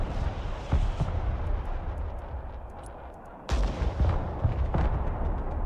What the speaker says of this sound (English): I got two new artillery firing.